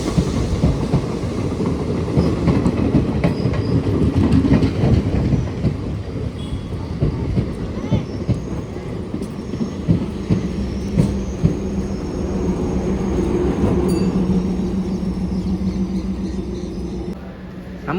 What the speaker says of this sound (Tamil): டெமோ எக்ஸ்பிரஸ் பார்த்தீங்கன்னா ஷார்ப்பாக 5:30க்கெல்லாம் திருத்துறைப்பூண்டி ஜங்ஷனுக்கு வந்துருச்சுங்க